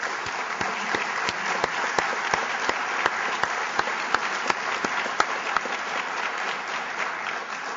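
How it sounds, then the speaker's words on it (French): A symposium audience at the opening session applauds the organizer, with a steady wash of clapping punctuated by a few distinct, sharper nearby claps. "je vous demande de l'applaudir, s'il vous plaît"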